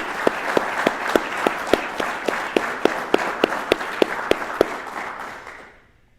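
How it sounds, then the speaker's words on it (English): An audience applauds the graduating class of the United States Border Patrol Academy. Steady, dense clapping with a few sharp individual claps fills the room, then fades out toward the end. "let's give them a round of applause"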